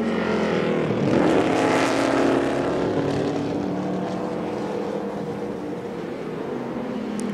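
Race cars on a circuit's short back straight during a fourth-place battle, a loud continuous engine roar that swells and then fades slightly as the cars pass and move away.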